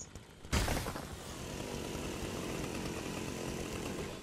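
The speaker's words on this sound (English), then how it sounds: "This chainsaw is OP" A chainsaw in the video game Fortnite starts abruptly with a loud burst, then settles into a sustained buzzing, revving drone that continues steadily to the end, with no talking.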